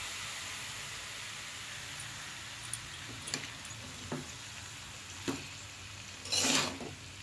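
Cut, washed cabbage sizzles softly in a pan with a few whole dried chillies, with occasional clicks and scrapes of a spatula stirring and a louder hissing burst near the end.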